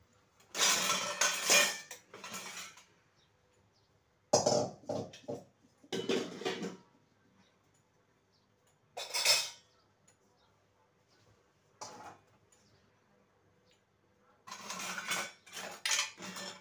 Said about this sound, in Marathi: भांडे सुकून गेले ते मस्त भांडे लावून देते मी आता.